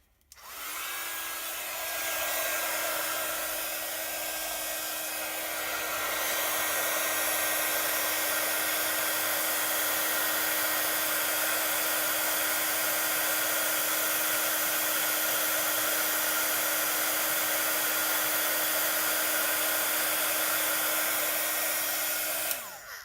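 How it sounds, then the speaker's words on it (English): Electric heat tool blowing hot air to emboss a card, switching on with a steady whirring motor hum and airy rush held close and constant for about twenty seconds before clicking off. "let's get my heat tool"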